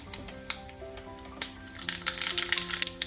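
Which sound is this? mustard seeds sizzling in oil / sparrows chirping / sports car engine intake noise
mustard seeds sizzling in oil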